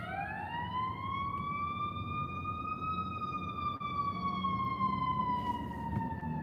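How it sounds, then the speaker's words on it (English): An ambulance siren wails steadily in a long rising and falling tone over constant road rumble heard from inside a moving car, holding fairly loud throughout as it passes nearby. "We have some ambulances coming through."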